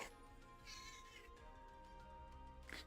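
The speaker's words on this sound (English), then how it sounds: "And this is my other cat coming for a chat." A pet cat, a girl named B or a boy cat, meows close by during a live game stream, a brief call near the end over steady background game music.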